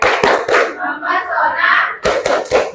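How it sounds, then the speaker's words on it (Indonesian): A classroom group of students stands and claps together in short rhythmic bursts, loud and close, with a brief pause of chatter between the rounds of hand claps. "Tepuk apresiasi."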